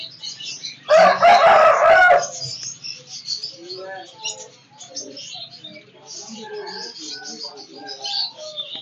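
A two-and-a-half-year-old Aseel rooster at a bird market in Faisalabad crows once, loud and close, then softer clucking and bird chatter continue in the background.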